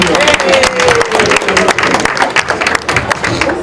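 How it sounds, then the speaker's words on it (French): Guests at an engagement celebration applaud loudly and steadily, with crowd noise and voices talking over the clapping throughout. "On applaudit, hein?"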